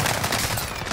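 Rapid, sustained gunfire from Call of Duty: Modern Warfare fills the whole second, a dense loud barrage of overlapping shots with no pauses and no voices.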